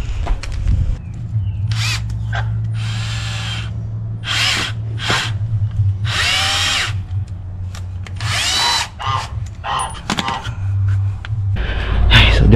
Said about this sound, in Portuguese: Eu acho que vou ter que colocar um parafuso Phillips.